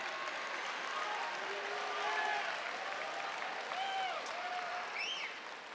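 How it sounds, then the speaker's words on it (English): A commencement audience applauds in a broad, sustained wash of clapping, with laughter and whoops rising over it and fading slightly toward the end. "you can clap for that."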